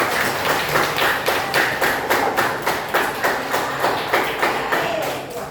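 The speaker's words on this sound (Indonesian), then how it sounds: "Tepuk tangan dulu buat" Children in a Grade 4 classroom clap their hands together in a steady, rhythmic unison beat, about three claps per second, loud and close, with no talking over it.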